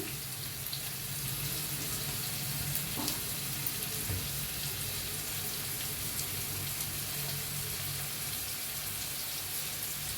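Chopped onion frying in a pan for egg curry, a steady close hiss of sizzling oil with a couple of faint stirring knocks, continuous and even throughout.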